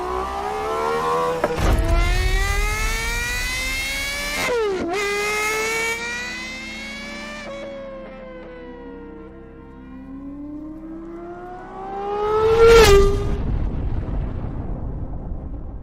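A GMA T.50 sports car on the road, its engine revving hard through sharp rising and falling sweeps with abrupt gear-change drops, easing to a lower drone before one more loud surge near the end.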